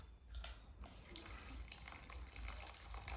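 Water is poured into a pan of grated ash gourd for kashi halwa, a faint, steady gushing splash running for a few seconds.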